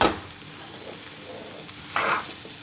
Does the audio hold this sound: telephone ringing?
no